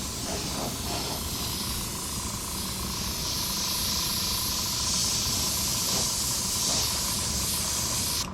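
Compressed air hisses steadily through an airbrush spraying touch-up paint on a 1972 Dodge Challenger during restoration, a loud, continuous close-up spray with no pauses and no talking.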